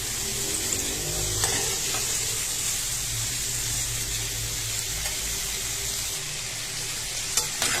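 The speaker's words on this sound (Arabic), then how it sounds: "ناخدها تشويحه كده مكان تحمير الفرخه" Carrots and potatoes are sautéed in the pan left from frying chicken, giving a steady, close sizzle with occasional stirring scrapes and soft knocks, continuous and unaccompanied by talk.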